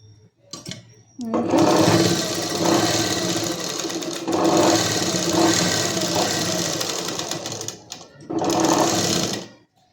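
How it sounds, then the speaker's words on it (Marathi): A sewing machine runs in fairly loud, sustained stretches as it stitches the collar of a kurti, with short gaps and a final burst near the end, while someone speaks over the mechanical hum. "या बाजूने टीप मारून घ्यायची. दाब उचलून या कडेकडून टीप चालू करायची"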